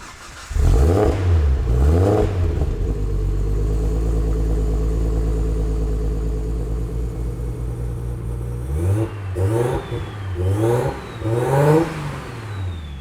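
A car engine started after a new ECU install fires up with a few sharp revs, settles into a steady idle, then is revved up several more times near the end, loud and close with no talking.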